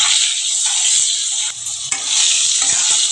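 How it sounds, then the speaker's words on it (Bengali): Potatoes seasoned with salt and turmeric fry in a pan with a loud, close, continuous hiss, broken by a few quick scrapes as they are stirred. "এবার আমি আলুটা একটু ভালো করে ভেজে নেব"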